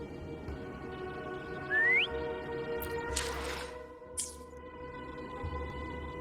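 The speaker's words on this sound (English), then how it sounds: "Try whistling." A video game character gives one short rising whistle to call Phaom in Wuthering Waves, set over a steady ambient game soundscape with later soft rustling swishes.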